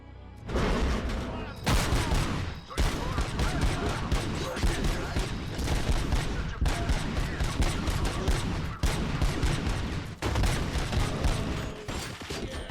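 Continuous automatic gunfire from a never-reloading gun in the video game RoboCop: Rogue City, loud and dense for over twelve seconds with brief breaks between bursts, mechanical clanks and booms mixed in.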